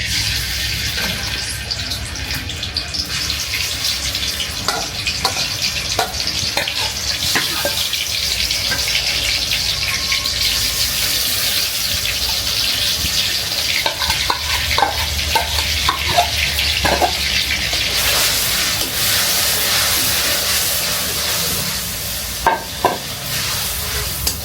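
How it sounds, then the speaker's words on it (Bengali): Ground onion and green chili spice paste sizzles and fries steadily in a pan, with repeated sharp scraping clicks of a stirring spoon against the metal throughout, and occasional running tap water in the background. "এখন আমি দিয়ে দিব বাটা মশলা, পেঁয়াজ মরিচ একবারে বাটা হয়ে গেছে।"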